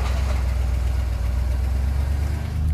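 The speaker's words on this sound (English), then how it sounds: "My exhaust is horrible." A truck engine idles with a rusted, loud exhaust, a failing catalytic converter and a Cherry Bomb muffler, a steady deep rumbling drone close by with a slight uneven pulse, no voices.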